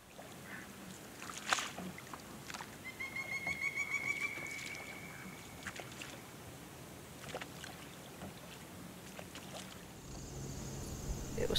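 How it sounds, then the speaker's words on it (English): Quiet water sounds of a small boat being rowed, soft splashes and creaks at irregular intervals, with faint birdsong and light wind in the background. "First, you have to row a little boat."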